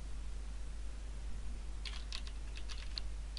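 Computer keyboard typing, a short quick run of keystrokes near the end, faint over a steady background hiss and hum.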